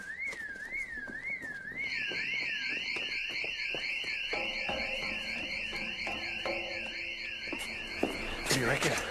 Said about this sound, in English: We've got an audible alarm.